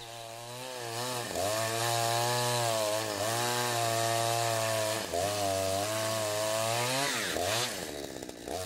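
Chainsaw logging timber in a production forest, its engine droning steadily and rising and falling in pitch as it bites into wood, close and loud throughout with no voices.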